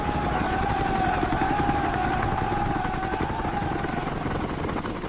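A steady, loud helicopter drone with a whirring rotor beat, constant and close for the whole stretch.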